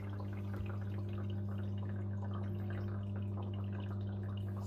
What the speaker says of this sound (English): Oh, it is. There's water coming out.